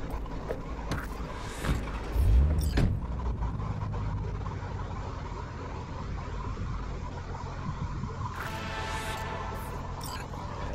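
A car driving in the video game Cyberpunk 2077, with a steady engine and road rumble throughout and a couple of brief louder swells.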